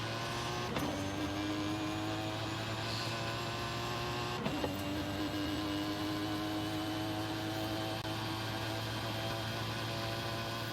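Dodge Dart Hemi in the racing game Forza Horizon 5 accelerating from a standing start, a steady loud engine drone with harmonics holding through the run and two brief gear-change dips, no talk over it.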